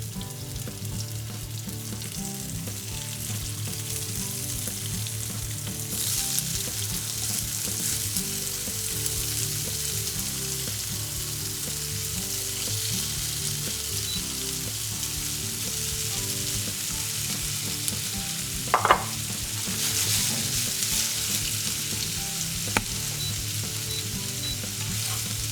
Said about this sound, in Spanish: Ponemos 2 cucharadas de aceite en una sartén y cuando esté caliente ponemos dentro el tofu.